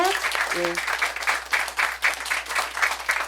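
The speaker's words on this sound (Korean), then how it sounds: "여러분 큰 박수 부탁드리고" Audience applause at a youth and generations forum held at Gwacheon Middle School, welcoming a lawyer and social activist; bursts of clapping rise and fall in waves, with a brief voice heard near the start.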